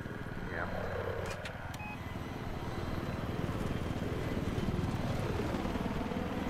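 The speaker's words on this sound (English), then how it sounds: "They're choppers up" Helicopter in the video game Global Conflict, a steady loud rotor and engine drone filling the whole stretch with a faint rhythmic thump, under quiet game noise with players talking over it.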